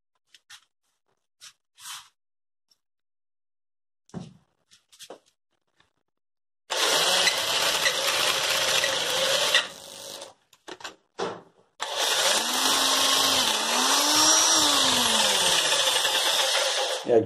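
A few quiet clicks and taps, then a small Parkside electric drill bit sharpener whirs steadily in two bursts with a high whine, separated by short rattles.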